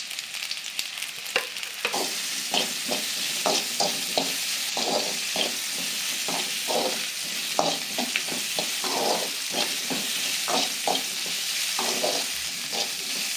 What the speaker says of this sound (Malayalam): ചെറിയുള്ളി നന്നായി ഒന്ന് വണങ്ങട്ടെ. ഇതിലേക്ക് കുറച്ച് ഉപ്പ് ഇടാം.